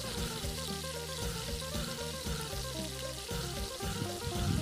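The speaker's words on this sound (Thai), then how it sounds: "ใส่น้ำเปล่าลงไป ในนั้นมีน้ำซุปอยู่แล้วนะครับ รวนครับรวนให้เนื้อหมูสุก" Pork neck stir-frying in a pan after water is poured in, a continuous bubbling hiss with soft watery churning, steady and moderately close, no talk.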